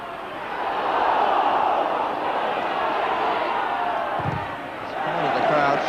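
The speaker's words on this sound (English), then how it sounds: "The crowd shouting." A football crowd at an FA Cup match between Kettering Town and Northampton Town roars in a broad, sustained swell from the stands, dipping briefly before rising again, heard from a distance across the ground.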